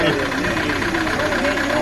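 A worn car engine runs with a steady rattle and knock, loud and continuous throughout at an amateur rally event.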